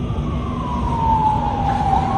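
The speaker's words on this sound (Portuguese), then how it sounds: "Dessa vez, as únicas sirenes ouvidas foram as da polícia, que chegou após a explosão." A police siren wails steadily after an explosion, a loud continuous tone gliding slowly downward over dense road and engine rumble, with no talk.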